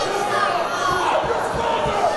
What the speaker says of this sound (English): The crowd chanting, "You suck at Soa."